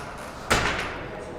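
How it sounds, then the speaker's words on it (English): A single sharp bang of a door blown shut by the wind, loud and sudden against a quiet room, fading quickly. "That damn door. It's windy again."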